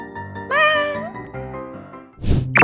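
A stray cat meows up close in a rising, drawn-out call, followed a moment later by a brief rustling thump, with no voices around it.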